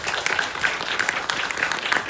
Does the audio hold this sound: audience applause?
yes